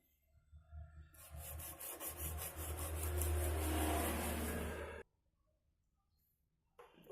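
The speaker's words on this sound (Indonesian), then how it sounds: "Kita laksanakan pengamplasan lagi." Sandpaper rubbing over a wooden guitar body during a heavy rebuild, a steady close rasping scrape of several strokes lasting a few seconds, then quiet.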